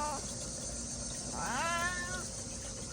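A talkative 14-year-old orange cat named Leo gives a single rising, drawn-out meow midway through, close and clear over quiet background hum with faint insect chirring.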